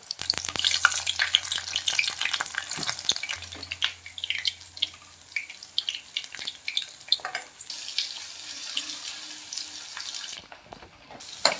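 Food fries and sizzles in peanut oil over a low flame, a steady crackling hiss with bursts of stirring and a brief rush of running tap water, no voices.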